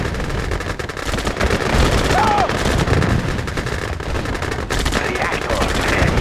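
Gunfire during a base attack in the Red Alert 2 strategy game: loud, steady rattling bursts of machine-gun and rifle fire mixed with battle noise, heard alone without talk.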